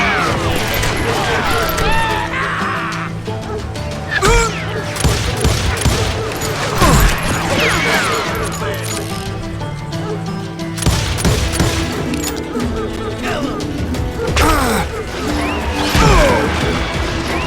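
Gunfire in the Western video game Call of Juarez: Gunslinger, loud repeated shots and crashes during a shootout, with shouted voices and a narrator talking over and between the bursts.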